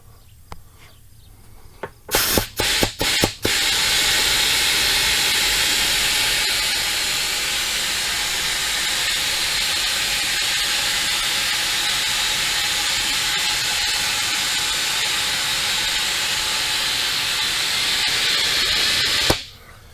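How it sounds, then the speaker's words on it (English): A tractor tire tube being inflated gives a loud, continuous hiss of rushing air that runs for about seventeen seconds, cut off abruptly at the end. A few sharp clanks come just before it starts. "I'll try inflating this a little bit."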